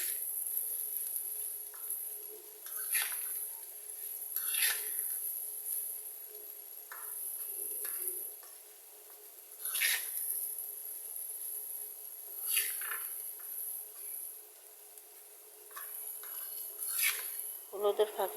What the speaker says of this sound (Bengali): হলুদের ফাঁকিটা আলুর সাথে মিশাচ্ছি, তাই একটু ভালো করে নাড়তে হবে।